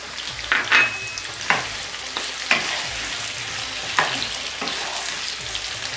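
Diced tomatoes and salt hit hot oil in an aloo karahi, giving a steady loud sizzle and frying hiss, broken by several sharp crackles and pops and the scrape of stirring.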